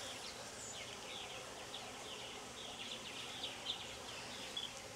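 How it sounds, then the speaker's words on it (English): A steady, dense hum of many honeybees buzzing close by on a hive frame, with faint high chirps scattered through and no voices. "Kind of clusters of bees."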